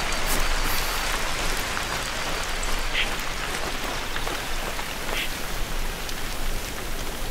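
Steady rain hisses and patters across the surroundings in the hunting game Hunter: Call of the Wild. The broad, even wash of sound continues throughout, with a few louder droplet taps.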